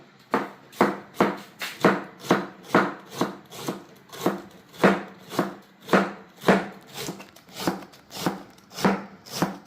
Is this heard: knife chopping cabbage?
yes